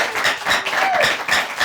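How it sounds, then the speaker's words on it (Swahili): Studio audience applauding on a talk show, a steady dense burst of clapping throughout, fairly loud and close. "Wapi makofi yenu mazee?"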